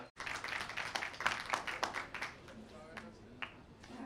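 Faint, scattered clapping from a small audience after a poetry reading at a multilingual Sanskrit festival gathering, fading as a voice begins speaking over it.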